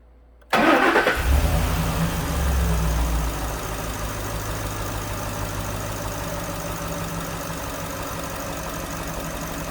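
A 2011 Ford F350 with the 6.2 gas V8 cranks and starts after a moment of quiet, revs up briefly and then settles into a steady, close, continuous idle.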